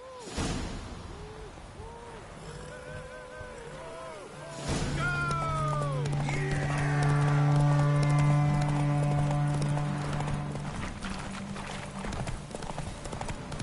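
Horse hooves clip-clop in The Witcher 3 video game, a steady galloping rhythm joined by swelling orchestral music and a voice talking over it.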